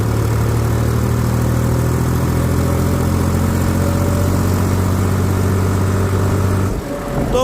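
A Mahindra tractor engine runs steadily in fourth gear with a low, even mid-pitched drone, close and loud, before a brief dip near the end as it shifts toward fifth.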